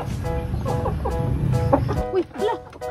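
Hens cluck repeatedly in short, irregular bursts at close range during an egg harvest, with layered overlapping calls from several birds over a low background rumble.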